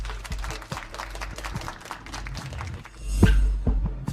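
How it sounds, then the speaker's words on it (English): Audience applause for people taking their seats, a dense patter of claps that rises briefly toward the end, fairly close and continuous with no voices over it. "Let's give a round of applause as they take their seats."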